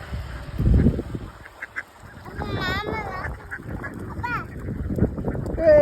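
Several ducks honk and quack in bursts, close by, mixed with people talking and some handling noise.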